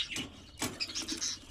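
Budgerigars chirp in a series of short, bright, high twitters with brief pauses between calls, close by and clear, with no voices present.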